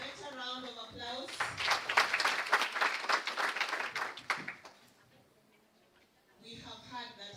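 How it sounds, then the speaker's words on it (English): Brief audience applause at an International Women's Day celebration, a few seconds of lively clapping between stretches of speech, rising after a voice and dying away before someone talks again. "A better round of applause."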